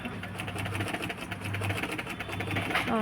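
A freshly oiled and threaded sewing machine stitches fabric with a long, loose stitch, a close, steady whirring run with rhythmic mechanical pulses.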